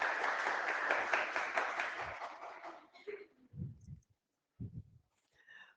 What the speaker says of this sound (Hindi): अरे बजा लो अपने लिए जोरदार ताली सब लोग